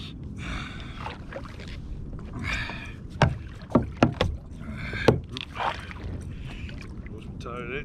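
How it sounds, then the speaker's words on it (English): Kayak out on the water during a mackerel fishing trip, with a steady wash of water and wind broken by a few sharp knocks and splashes against the hull, while people talk nearby. "Kayak."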